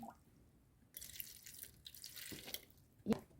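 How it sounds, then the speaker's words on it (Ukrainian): A little water poured into the bottom of a plant pot lined with coarse bark, giving a brief, quiet, close trickle and splash that ends in one louder drip. "Заливаю скрізь водички трошки на дно."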